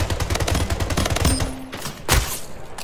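A railgun firing in a fast multiplayer shooter, set among dense, loud bursts of rapid gunfire with a sharp, heavy blast standing out near the end.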